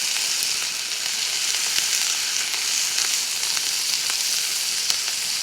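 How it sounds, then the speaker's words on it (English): Onions sizzle in a frying pan, a steady close hiss and crackle of frying with occasional pops, continuous and without talk. "And we'll just let that cook nicely on that frying pan."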